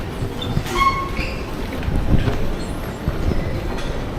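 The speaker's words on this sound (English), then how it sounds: "Not sure if the train already arrived." A train pulls in at a platform of KL Sentral station in Kuala Lumpur, Malaysia, with a steady low rumble, a faint squeal and a soft clatter of wheels throughout, some station noise behind it and no talking.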